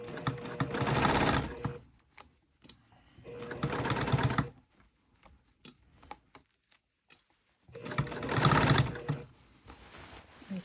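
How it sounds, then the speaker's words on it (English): A treadle sewing machine runs in three separate bursts of rapid mechanical clatter. Quieter pauses with small clicks and bumps fall between the bursts, heard up close. "I hope that the machine isn't too loud"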